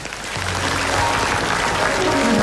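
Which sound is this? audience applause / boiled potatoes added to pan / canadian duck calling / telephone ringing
audience applause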